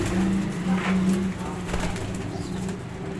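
Pigeon chicks offered for sale in Faisalabad coo in a low, steady drone close by, with a few soft wing flutters and faint background noise.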